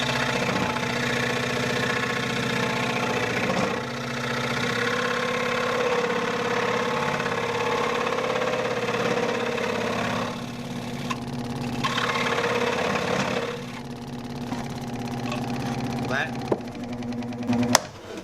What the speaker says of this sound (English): I'm just going to cut a little sliver off the end, kind of like as if I was using a bandsaw, and I'm going to turn the speed up just a little bit.